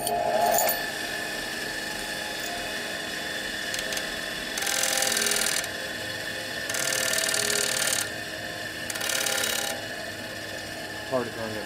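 Three short rasping bursts, evenly spaced, as a cork piece on a 1949 Harley panhead distributor is ground down by hand, over a quiet workshop background.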